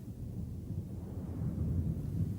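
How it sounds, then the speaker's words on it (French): Thunder of an approaching storm in a French Moomins cartoon: a low, distant rumble that swells slightly toward the end, faint and alone, without voices. "Je crois qu'on va avoir un bel orage."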